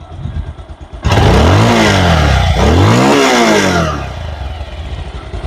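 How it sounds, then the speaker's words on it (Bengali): A Bajaj Pulsar 150 ABS motorcycle with double disc brakes, 2022 model, revs hard after a second of idle, its engine pitch climbing, dipping and climbing again before settling back to a loud, steady idle close by. "সাউন্ড ভিট কিন্তু একদম গুণা যাচ্ছে টন টন টন টন শব্দ হচ্ছে"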